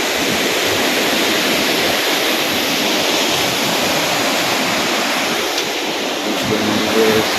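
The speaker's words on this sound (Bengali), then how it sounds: "এই পাশে একটা খুব সুন্দর ঝর্ণা" Mountain waterfall in Uttarakhand near a Kedar pilgrimage temple, a steady broadband roar of falling water that stays loud and unbroken throughout, with no voices.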